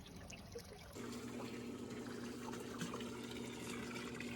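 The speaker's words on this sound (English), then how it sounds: "Just trying to get the water level up so I can make sure they don't leak." A garden hose runs into a stock tank pool, giving a soft steady trickle and fill of water with a faint constant hum, quiet and close, with no talk.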